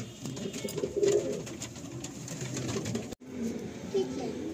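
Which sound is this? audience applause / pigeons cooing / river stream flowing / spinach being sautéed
pigeons cooing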